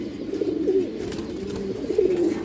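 Several pigeons coo in a loft, their low warbling calls overlapping in soft repeated phrases close by, with steady background hum and no voices.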